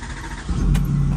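Tow truck engine cranking over and catching, a low rumble rising into a steady running idle, loud and close with no talk.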